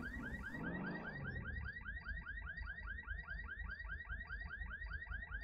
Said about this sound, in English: usually if the alarm's going off, that's not a good sign